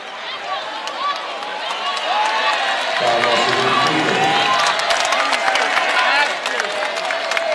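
A high school basketball crowd at a 2019 tournament game between McEachern and Berkmar roars and cheers loudly and steadily throughout, swelling near the middle, with a commentator talking over it.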